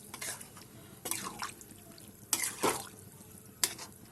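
Water poured into a pan of fried prawns cooking with jackfruit, several splashing pours and drips in short bursts over a quiet background.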